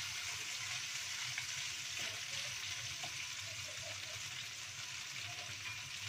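Chopped garlic fries in a pan while cooking a Hong Kong restaurant-style dish, making a steady, close, hissing sizzle with faint stirring clatter.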